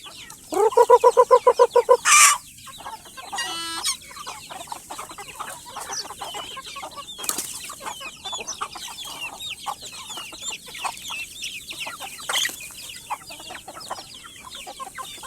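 Chickens cluck and squawk nearby in a burst of rapid calls, then quieter scattered clucking continues over a busy outdoor background.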